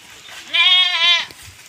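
A native goat lets out a single close, wavering bleat lasting under a second. The rest of the moment is quiet.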